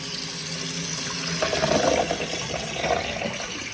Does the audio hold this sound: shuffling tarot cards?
no